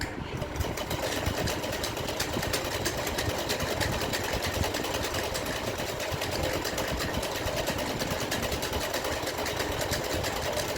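A sewing machine runs steadily, stitching the finishing topstitch seam on a sleeve of a size 32 Rajputi poshak, its rapid mechanical chatter continuous and moderately close.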